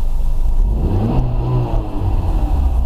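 A Chrysler PT Cruiser 2.0 on LPG revs steadily and loudly above 4,000 RPM, a continuous droning roar with slight rises in pitch, close by.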